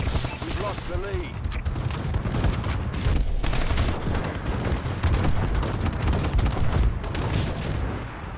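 Bombs from an enemy bombing run burst in a Call of Duty-style shooter, a dense unbroken barrage of rumbling blasts and crackling fire that holds steady and loud throughout.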